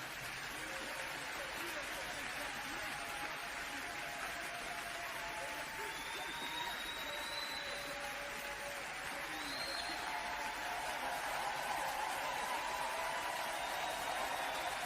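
Church congregation applauding and cheering in sustained acclamation for the Holy Spirit, a steady dense wash of clapping and voices that holds for the whole stretch without fading.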